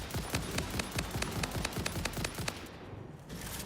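Rapid automatic gunfire from a weapon in the game Satisfactory rattles out in a fast, evenly spaced burst of sharp close shots, then cuts off into quieter background.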